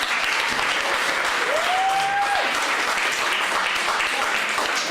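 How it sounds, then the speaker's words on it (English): Sustained, even applause from an audience at a college presentation evening, dense clapping that holds steady for several seconds, with a brief whistle rising above it. "So a big round of applause to you guys."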